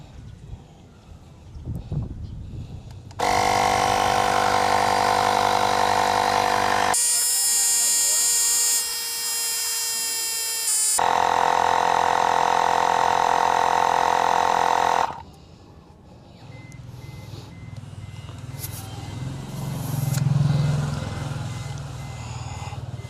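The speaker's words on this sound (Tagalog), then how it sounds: "Ang liit-liit lang pero kaya niya talagang hanginan yung mga gulong ng sasakyan natin." A small portable 70mai TP07 tire inflator runs on a car tire as a loud, steady electric buzz with a shifting pitch for about twelve seconds, then shuts off, leaving quiet background noise with faint voices.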